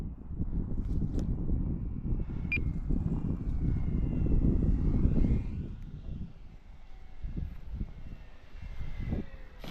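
An Extra 330SC model airplane fitted with bush wheels flying outdoors over a yard, its small engine a steady buzzing drone blended with wind noise, swelling slightly as it passes and then fading.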